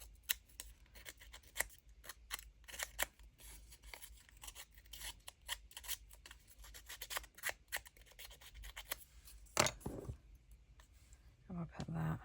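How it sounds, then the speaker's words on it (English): A handheld distressing tool scrapes paper edges to grunge them for a junk journal craft, giving quick, soft rasping strokes in irregular bursts close to the microphone. A few louder scrapes land near the end. "so we'll just use my distressing tool."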